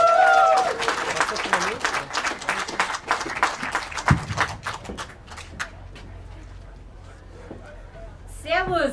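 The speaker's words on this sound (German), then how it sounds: "Bitteschön. Applaus." Audience applause at an AfD rally in Northeim welcomes a speaker, starting as brisk clapping from many hands, then thinning to scattered claps and fading, with voices heard briefly.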